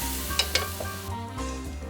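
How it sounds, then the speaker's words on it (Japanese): A frying pan is deglazed with sake or water, a soft sizzle under a few light scraping strokes as stuck bits are worked loose for a Korean-style yukgaejang hotpot. "フライパンのこびりつきには旨味が詰まってるんで、酒か水でこそぎ落としてこいつも鍋の中に入れる。"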